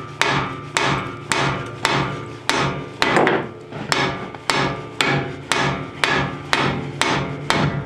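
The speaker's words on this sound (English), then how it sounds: "I'll take my hammer, hit the side of it here until it pops loose" A hammer strikes the side of a lower ball joint on a 2008 Ford Fusion, knocking it loose: about a dozen sharp, loud metallic blows in a steady rhythm, close up, with no talking.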